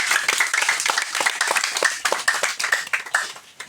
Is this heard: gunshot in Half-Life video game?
no